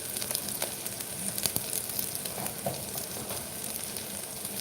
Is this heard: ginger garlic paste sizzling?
yes